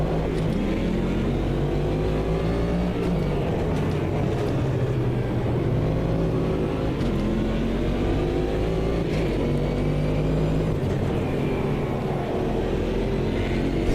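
Race car engines roar in Automobilista 2 as several cars run three wide on a track with a corkscrew section. A loud, continuous drone rises and falls with repeated revving and gear changes, and no one speaks over it.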